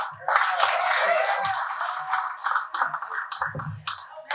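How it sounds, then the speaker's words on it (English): Applause from a comedy show audience, a moderate wash of clapping that swells early and then breaks into scattered claps, with a few voices and hoots mixed in toward the end. "please give me a round of applause for Miss Melissa Diaz."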